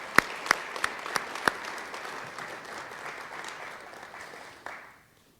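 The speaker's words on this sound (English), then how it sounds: "Let's give them all a round of applause for being a part." An audience applauds at a governor's announcement event, opening with several loud, sharp nearby claps before settling into steady, softer clapping from the crowd that fades out at the end.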